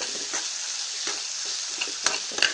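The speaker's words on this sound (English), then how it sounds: "And now I'll start putting the vegetables. These are the diced carrots." Diced carrots land in a hot pot for a vegetable biryani, making a steady close sizzle with soft stirring scrapes and a few sharper clinks near the end, with no talking.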